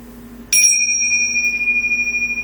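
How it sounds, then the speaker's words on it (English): A yoga class bell is struck once to close the session, giving a bright metallic ring that sustains and slowly fades over a low steady hum. "he'll ring our bells to end class"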